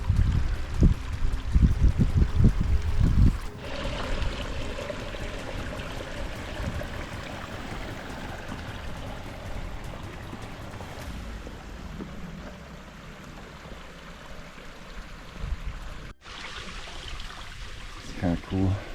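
A mountain stream flows beneath big rocks, a continuous rushing, gurgling wash that is louder and rougher at the start, then settles into a steady nearby babble, with wind buffeting and occasional handling bumps.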